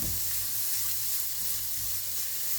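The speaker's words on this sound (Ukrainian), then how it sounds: "Гарбузик смажиться" Pumpkin pieces fry steadily in a hot pan, a continuous close crackling hiss with no talking.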